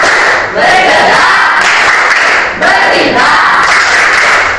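A classroom group does a clapping game with rhythmic chanting, loud, dense voices and claps in unison, with two brief pauses between repeated phrases.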